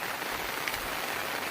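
Heavy rain pours steadily on a rural Konkan farm field during the monsoon, a dense, even hiss close by with no voices.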